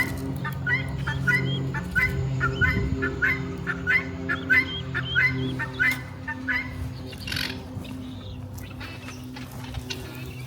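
Newly hatched baby fowl chicks on a flower farm peep loudly in rapid, repeated high-pitched bursts, close by, over a steady low background hum without talk.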